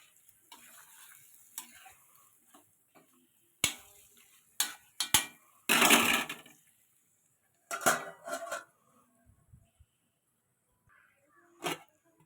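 Fish pieces in a curry pot stirred with a metal spoon, sharp scraping clanks arriving in scattered bursts between quiet pauses, close by with no talk.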